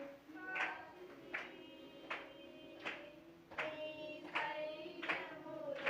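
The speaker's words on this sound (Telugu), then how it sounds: "ఎట్లుండండి, చప్పట్లు కొట్టు." A worship congregation claps hands in a steady beat, roughly one clap every second, with sung music beneath.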